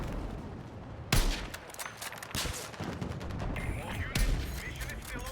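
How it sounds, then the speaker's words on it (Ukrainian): Battlefield 6 Conquest match gunfire in a city map, sharp close shots and short bursts erupting sporadically, with loud blasts and distant crackle while a player talks over it. "А хто це по мені стріляє, не поняв."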